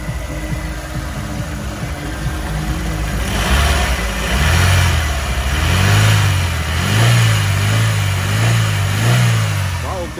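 The 1.5-litre engine of a 2009 Daewoo Gentra with a manual gearbox runs close by, idling evenly at first, then rising and falling through several smooth revs, with faint talk in the background.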